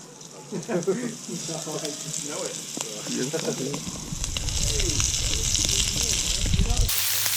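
Octopus frying in hot oil, a steady close sizzle building louder through the clip, with people chatting over the first half.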